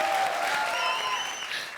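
A studio audience at a comedy show's awards special applauds in a brief, even burst of clapping heard at moderate distance.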